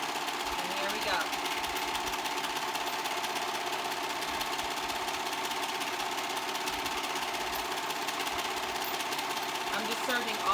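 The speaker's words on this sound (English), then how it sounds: "I'm just serging all the way around to where my sleeve is." Serger overlock machine stitching a seam around a sewn tee, a fast continuous mechanical whir with a fine rapid chatter, fairly quiet and steady without pause.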